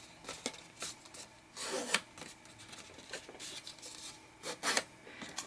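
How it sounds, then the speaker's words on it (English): Paper card is folded along score lines for a handmade album, giving a series of soft, close creasing and rubbing scrapes in irregular bursts. "We're going to fold those score lines."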